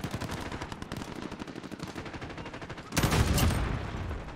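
Rapid automatic gunfire from a Call of Duty-style shooter game rattles in a fast, continuous stream, then a louder, heavier burst cuts in and carries through to the end.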